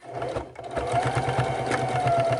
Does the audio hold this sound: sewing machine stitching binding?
yes